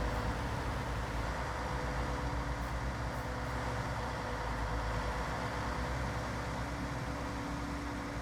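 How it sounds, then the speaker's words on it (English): A truck drives past in the farm simulation game Farming Simulator 19 on a Kansas map, a steady, continuous heavy engine rumble that holds at an even level from start to end with no talk over it. "Just let the truck go past there."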